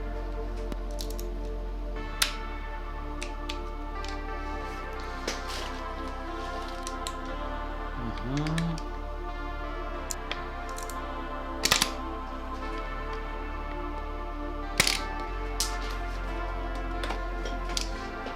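A worn torque wrench tightens camshaft bolts on a Nissan 350Z engine, with sharp metallic clicks and ratcheting snaps scattered over a steady low hum. A brief creak is heard partway through, close and clear.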